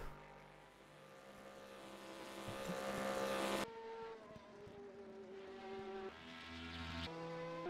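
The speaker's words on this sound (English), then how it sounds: "these are GT cars. Which do scream, but not as loud as GT1 cars" GT race car engines in an endurance sim-racing video game whine and rise through the gears, one passing car cutting off abruptly before others rev up again, loud and continuous with no talk.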